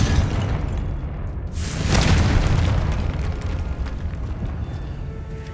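Confringo fire spell from the game Hogwarts Legacy erupts in a swelling, booming blast that builds over a second and rolls off into a loud, dense rumble with no talking.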